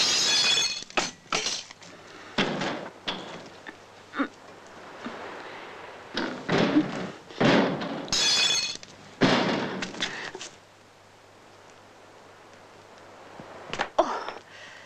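Glass shattering in a suspense horror film scene, several sharp crashing bursts of breaking glass spread through the first ten seconds with fainter clinking pieces, followed by a quieter stretch and one more brief crash near the end.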